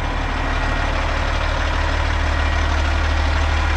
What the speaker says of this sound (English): This is a 2019 Kenworth W900 500 Cummins.